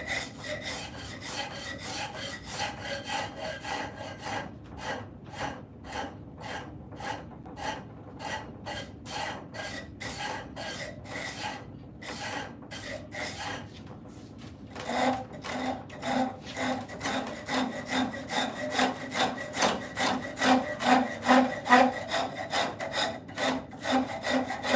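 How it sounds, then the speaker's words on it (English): A hand rasp files purpleheart wood in quick, steady rhythmic strokes. The scraping is close and moderately loud, briefly pauses and thins, then grows heavier and faster. "You can also take your rasp and just hit it."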